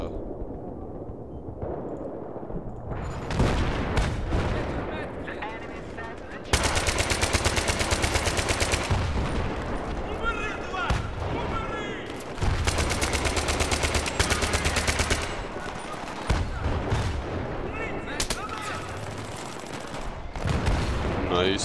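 Bursts of automatic gunfire and crossfire in Battlefield 3 Rush mode, with a tank nearby, come in loud dense waves, several sustained volleys separated by short lulls, with voices talking over the battle.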